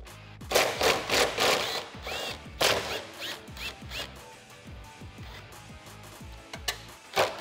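Ratcheting 10mm socket removing the four factory nuts holding the spoiler to the deck lid of a 2010-2014 Ford Mustang, a rapid series of sharp mechanical clicks in bursts, close and fairly loud, with no talking.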